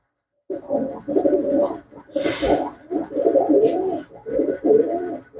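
Pigeons coo in repeated low throaty phrases, close and clear, with a brief rustling burst in the middle at a pigeon sale.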